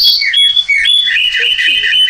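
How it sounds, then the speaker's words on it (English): A cardinal sings loud and close, with a quick run of bright, clear chirps and sliding whistled notes, one following another with no pause. "Cardinal."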